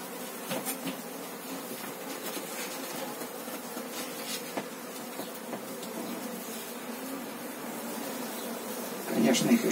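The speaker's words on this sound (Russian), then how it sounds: "Вот тут прилетают пчелы." Honeybees flying in to a hive being moved into another box, a steady close buzzing hum of many insects that runs throughout, with a louder swell near the end.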